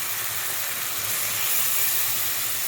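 Spice paste sizzling and frying in a pan after a little water is added, a steady broadband hiss that holds throughout without any talk.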